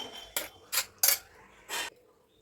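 A metal spoon scrapes and clinks four times against a pressure cooker and a bowl while brinjal tomato curry is served, each scrape short and close, with quiet gaps between.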